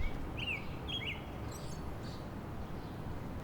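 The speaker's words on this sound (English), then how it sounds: "you hear the birds chirping" A few bright bird chirps and short calls ring out over a soft, steady outdoor background hiss.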